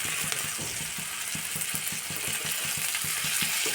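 Tomato goes into a hot pan of frying prawn curry: a steady close sizzle and hiss continue throughout, with faint rhythmic scraping as the pan is stirred, and no talking.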